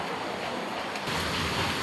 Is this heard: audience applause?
no